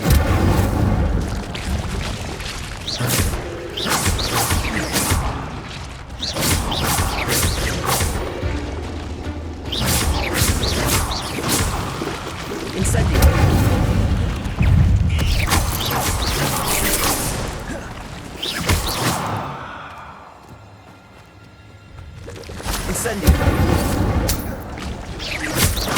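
An Incendio fire spell cast in Hogwarts Legacy, heard as a run of loud whooshing bursts and crashing booms, one after another, with a brief quieter lull before the blasts resume.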